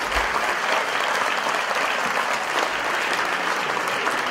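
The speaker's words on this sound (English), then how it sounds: "let's give them all a big round of applause." Dense, steady applause from an audience at the close of a conference debate, loud and continuous throughout with no pauses or voices standing out.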